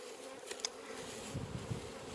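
Honeybees buzz around an open hive during a demaree split, a steady close insect drone with faint low thumps and handling noises.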